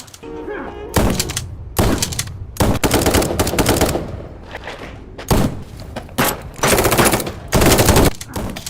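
A film shootout erupts in repeated bursts of rapid gunfire and heavy thuds, loud and close, separated by short pauses, with a voice talking at times.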